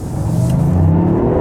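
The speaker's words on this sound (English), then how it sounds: "In those lower gears, it really picks up and it really goes as you expect it to." A Toyota GR Yaris accelerating hard in a low gear, engine note rising steadily in pitch over a second and a half, loud and close from inside the car with no talking.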